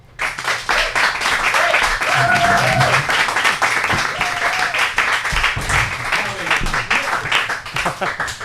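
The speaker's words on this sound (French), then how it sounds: "Je vous demanderai de donner une bonne main d'applaudissement" An audience at an evening debate applauds to welcome two guests, sustained clapping filling the room for several seconds with a brief voice or two heard beneath it.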